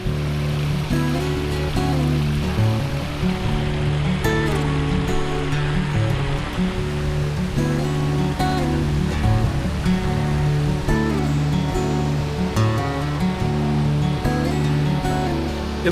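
Waterfall in a mountain canyon in the Grayson Highlands, a dense, steady roar of falling water close by, unbroken and loud for the whole stretch with no talk.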